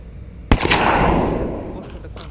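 A sharp gunshot in the video game LOCKDOWN Protocol cracks out loud and close, then a long reverberant tail fades over the next second or so, with faint later clicks.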